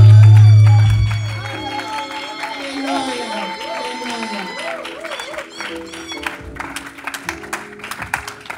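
A church congregation breaks into cheering and applause for the apostle, a dense, sustained wash of clapping and voices that stays full and lively throughout, with singing or chanting tones running through the crowd.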